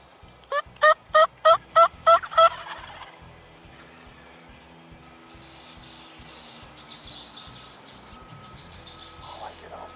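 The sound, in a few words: wild turkeys gobbling, jakes and a tom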